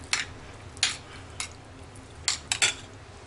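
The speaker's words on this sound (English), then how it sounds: "We're just going to kind of start stirring around." Spoon stirring food in a pan, a handful of short faint scrapes and taps spaced irregularly against a quiet background.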